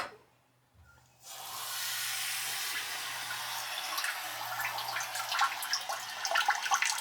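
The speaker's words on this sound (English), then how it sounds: "I went to turn the water on" Water switched on through a Samodra bidet attachment, starting after a second of quiet and then a steady hissing spray that continues with small splashy fluctuations, close and without speech.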